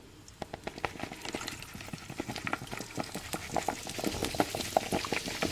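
Vegetables and garlic crackle in a hot pan, a steady bed of frying hiss broken by frequent clicks and pops, close and moderately loud with no voices.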